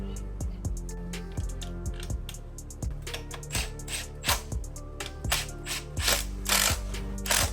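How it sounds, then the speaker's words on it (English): Ratchet tightening hardware on the rear set of a crashed Kawasaki Z900 motorcycle, rapid close clicking strokes in repeated bursts with metallic taps, no voices. "I'm going to add some thread locker before securing all the hardware that goes to the rear set"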